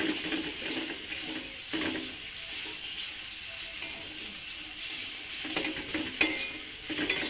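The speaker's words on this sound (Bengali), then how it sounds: "এর মধ্যে আমি উচ্ছেটা দিয়ে দিলাম, মশলার সঙ্গে একটু নেড়ে নিই উচ্ছেটা।" Bitter gourd being stirred with spices in a hot pan, with soft sizzling and intermittent scraping strokes of a spoon against the pan, close and fairly quiet.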